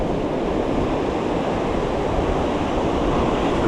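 Ocean waves break steadily on a New Jersey saltwater fishing shore, a loud continuous roar and wash that fills the whole stretch with no talk over it.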